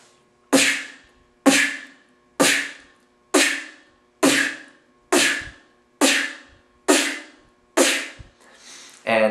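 Beatboxed snare from pressure built up at the front of the mouth, a voice imitating a drum: eight sharp, evenly spaced hissing bursts, close and loud, each decaying quickly, with a breathier sound at the very end.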